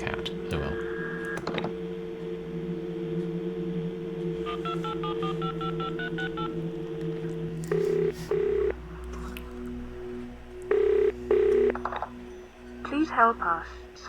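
A phone box keypad in the video game The Lost Crown plays a quick string of about ten telephone dialing tones mid-clip, framed by steady in-game ambience, electronic tones and someone talking before and after.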